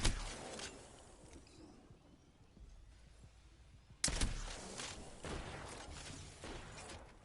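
Gunshots from a precision sniper weapon in the Apex Legends video game, one sharp crack early and another loud crack midway, each followed by a mechanical rattle and a fading tail.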